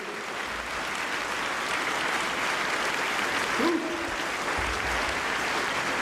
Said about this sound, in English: Let's give everybody a big hand of applause. Everybody clap.